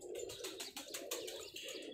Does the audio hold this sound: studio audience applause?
no